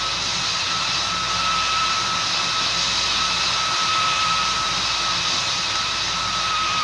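Thai Airways flight 387 passenger jet landing fast, a steady loud roar of jet engines with a high whine held throughout, heard from an outdoor spotting position with no talk.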